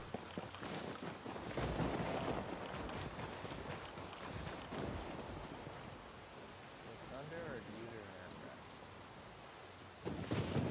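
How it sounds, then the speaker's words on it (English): Thunder rumbles in a rain-soaked outdoor scene in a game, a deep rolling boom that swells and fades beneath steady rain hiss, with voices talking faintly over it. "Nah, it's thunder."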